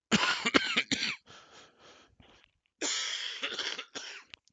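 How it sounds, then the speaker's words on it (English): Several harsh coughs close to the mic come in bursts, broken by wheezy breaths and throat clearing, then another fit of coughing. "sorry about the coughing again"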